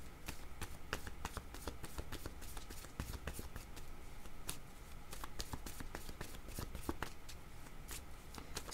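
Playing cards are shuffled repeatedly at close range, a fast run of crisp riffling snaps and flutters that keeps going steadily with no pause.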